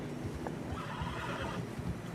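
A horse whinnies once, loud and close, over a steady rumble of hooves and wind-like ambience, in the video game Red Dead Redemption 2, on a narrow snowy trail.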